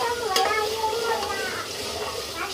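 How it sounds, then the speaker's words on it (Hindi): Masala with added yogurt sizzles and fries in a pan for mutton kofta curry, with a sharp scrape of the spoon near the start and a steady hissing sizzle that continues throughout. "भून गया ना मसाला? हाँ मसाला भून गया"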